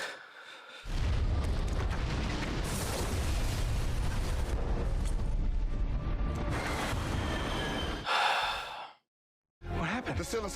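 A quarantine building is fired on from a Quinjet, setting off a long, loud, rumbling explosion that roars for several seconds, then breaks off into brief silence before more debris noise follows.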